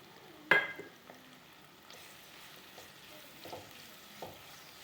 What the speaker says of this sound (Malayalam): അരിഞ്ഞു വെച്ചിരിക്കുന്ന 4 സബോളയാണ് അതിലിട്ടിട്ട് നമ്മളത് വാട്ടിയെടുക്കാം